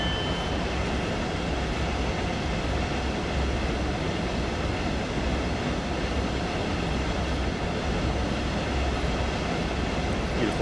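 A high-speed Southeastern train runs steadily in Train Sim World 2, a continuous loud rumble and rail roar holding level throughout with no talk.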